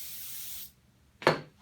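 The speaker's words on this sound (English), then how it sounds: "But I just spray a little bit on the towel" Gun cleaner is sprayed onto a towel while a Browning Silver Hunter 12-gauge shotgun is being cleaned. A steady hiss lasts over half a second, then a brief pause, then a short rough rub or spray burst close by.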